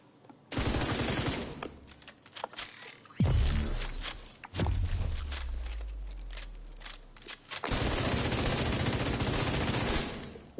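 Rapid bursts of gunfire in The Division 2, loud close shots in quick clusters with a heavy boom and a long low rumble partway through, then sustained firing to the end.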